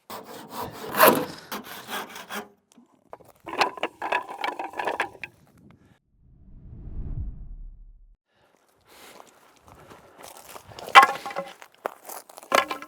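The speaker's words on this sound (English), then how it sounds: "So this is a lot of fun cutting this out here just with this handsaw and kind of eyeballing it." A handsaw cuts wood by hand on a toilet shack build site, coming in separate bursts of rasping back-and-forth strokes with quiet pauses between them.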